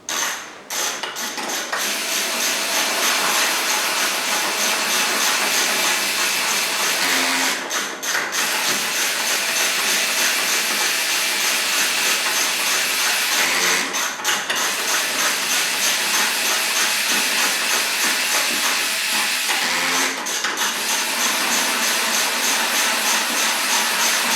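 Two bolts tightened with a Sealey speed ratchet and a hand ratchet, heard as a loud continuous whirring, hissing rush with a few brief breaks and knocks between runs.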